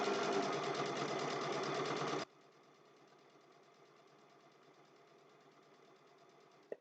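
A sewing machine stitching a mug rug, a fast loud whirring run that cuts off after about two seconds, then a quieter, slower stitching hum and a final click.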